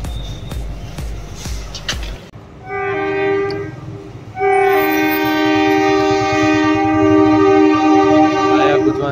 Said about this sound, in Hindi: चलिए हम लोग भी थोड़ा ट्रेन का आवाज़ सुन लेते हैं